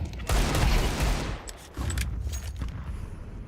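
A flashbang grenade bursts in a Counter-Strike 2 match, a loud sharp blast with a crackling roar that fades, then a second burst of noise, while a voice announces grenade throws.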